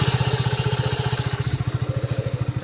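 A motorcycle engine idles close by with a fast, even thumping putter that holds steady throughout.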